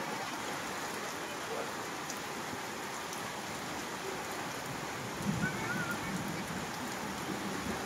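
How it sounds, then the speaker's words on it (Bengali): Heavy rain falls steadily in a Bangladeshi village, a dense, even hiss of drops that continues throughout, heard fairly faint and without any talking. "অনেক জোরে বৃষ্টি নামা শুরু করছে।"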